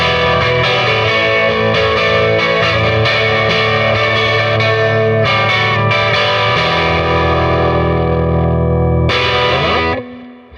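A Fender Jaguar fitted with Jazzmaster pickups, through a Princeton Reverb amp driven into natural overdrive, plays loud sustained riffs with thick, slightly distorted chords that ring out and stop abruptly near the end.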